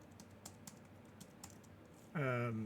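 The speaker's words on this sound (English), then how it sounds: "this is my rubbish little keyboard that's making me type so slowly" Typing on a small computer keyboard gives a run of light, irregular clicks and taps at close range, with a louder tonal sound breaking in near the end.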